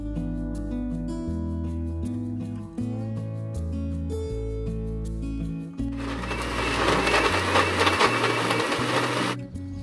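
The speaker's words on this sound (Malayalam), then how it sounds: "മിക്സിയിൽ നല്ല പോലെ ഒന്ന് കറക്കിയെടുത്ത ശേഷം" A mixer grinder blends frozen milk with cashews and sugar, starting about two-thirds of the way in as a loud, steady whirring roar over background music. The music plays alone before the blending begins.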